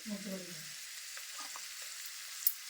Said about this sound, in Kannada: ಶೇಂಗಾ ಬೀಜ ಪಾಲಕ್ ಪಲ್ಯ ಇವೆಲ್ಲ ಫ್ರೈ ಆಗುತ್ತೆ